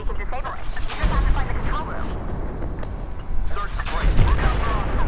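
Gunfire and tank-battle explosions in the Battlefield 4 campaign sound as dense rolling bursts and booms under continuous talk from a player.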